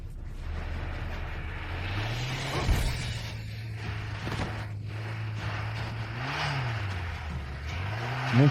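A car engine drones steadily with its pitch rising and falling as it revs and drives, loud and continuous, with a sharp thump near the start and another rev swell toward the end.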